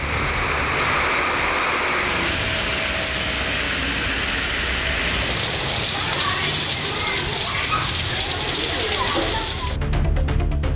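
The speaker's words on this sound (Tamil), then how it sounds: "பல்வேறு பகுதிகளில் மழை பெய்தது" Heavy rain pours down in Tamil Nadu as a loud, steady, dense hiss that continues without a break through the whole stretch.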